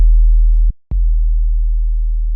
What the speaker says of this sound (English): And that transitions to a sub bass.